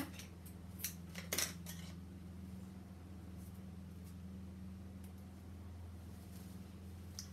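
Scissors snip through a drawstring cord for a sewn bag, a few quick close cuts early on, then steady low hum of room noise with no talk.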